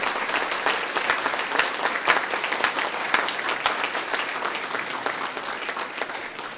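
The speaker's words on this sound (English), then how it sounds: "So let's give them one final round of applause." Sustained audience applause at a school board of education meeting honoring students, steady crisp clapping from a room of people with no talk over it.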